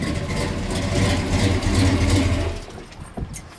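Deep, lumpy idle of a 1967 Hemi-powered car engine at about 1,000 RPM, loud and close, steady thumping that drops off near the end into quieter background sounds.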